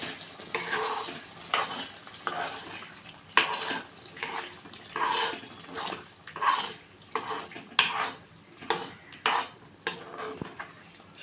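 Tomatoes sizzle in a hot pan for tomato chutney while a spoon stirs them in repeated scraping strokes, close and steady, with continuous frying hiss underneath.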